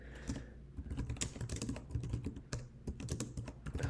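Rapid, uneven clatter of fingers typing on a computer keyboard during a LaTeX speed-typing game, close and continuous, with bursts of keystrokes and brief pauses and no voices.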